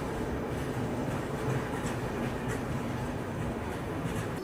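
A Muzaffarpur-Valsad train rolls past a station near Bhusawal, giving a loud continuous rumble with a rhythmic clatter of wagons that holds steady throughout.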